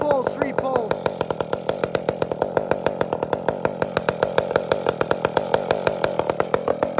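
Chainsaw just started and warming up, idling close by with a fast, regular chugging putter and brief throttle revs near the start.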